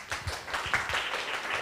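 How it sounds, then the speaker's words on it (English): Audience applause at a Plurality Tokyo conference session, a brief patter of clapping from a crowd, moderately faint and steady for a moment. "and please give applause."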